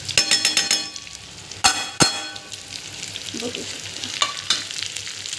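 Stuffed bitter gourd curry is stirred in a frying pan with a sizzling, crackling fry, and a utensil scrapes and clinks against the pan several times, while someone speaks briefly over it.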